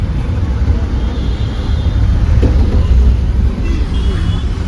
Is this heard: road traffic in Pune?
yes